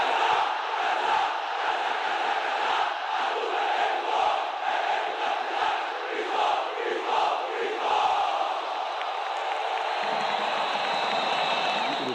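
Football supporters of Sport, the Brazilian club, chanting a war cry in a stadium crowd, a loud sustained rhythmic roar of many voices that thins out toward the end.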